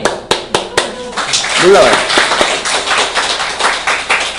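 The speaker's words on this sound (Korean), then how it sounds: "박수 한번 해주세요." Congregation applauding during a Sunday church service, several sharp claps at the start swelling into a full round of clapping, with a voice speaking over it.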